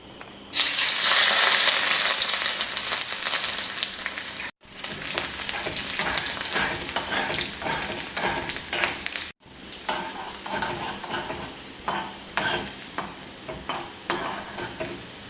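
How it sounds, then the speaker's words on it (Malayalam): Garlic and ginger fry in hot coconut oil with a strong, steady sizzle and hiss, broken twice by brief pauses while being stirred, close and loud with no voices. "ഈ വെളിച്ചെണ്ണയിലേക്ക് നമുക്ക് എടുത്തു വെച്ചിരിക്കുന്ന വെളുത്തുള്ളി ഇഞ്ചിയും കൂടി ആദ്യം ഒന്ന് മൂപ്പിച്ചെടുക്കാം"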